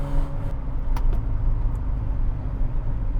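A DeLorean DMC-12 driving around a roundabout at about 30 mph: a steady, close, low engine rumble with road noise, holding an even tone throughout and with no voices.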